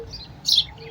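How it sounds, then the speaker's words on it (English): A loud, close bird chirp bursts out in the middle of a brief outdoor moment, sharp and high, with a faint hum of background noise around it. "that's some really loud birds here."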